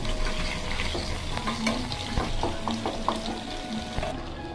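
Spice-stuffed brinjal frying in oil in a pan, a dense close crackling sizzle with frequent sharp clicks and scrapes of stirring, steady and fairly loud with no speech.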